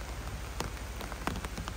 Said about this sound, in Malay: Nampaknya hujan ni berlarutan lama lah.